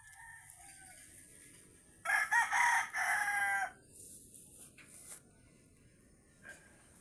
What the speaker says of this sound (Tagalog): Andito ako sa manoka namin guys.